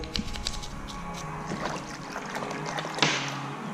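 Steel buckles and a keeper being rinsed off with water give a close sloshing and trickling, with a brighter splash near the end and no talking.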